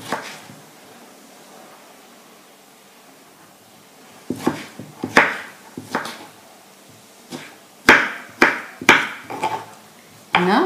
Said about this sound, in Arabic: هنايا مطيشه راني نقيتها وحيدت لها الزريعه وغادي نقطعها طريفات